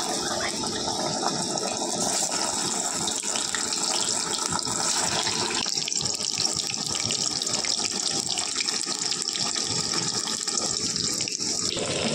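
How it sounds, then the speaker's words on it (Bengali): Snacks dropped one by one into hot oil in a wok hiss and sizzle in a loud, continuous, close-up bubbling roar that holds steady throughout. "এবার একে একে কিন্তু এই স্ন্যাক্সগুলো আমি ছেড়ে দেবো।"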